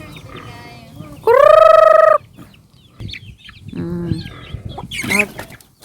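Loud chicken clucks and a sharp squawk, with a crowing-like burst early on, close and busy over rustling background noise.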